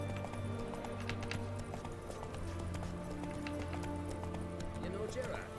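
Roach, Geralt's horse in The Witcher 3: Wild Hunt, galloping with rapid rhythmic hoofbeats over a low music bed, a voice talking briefly over it.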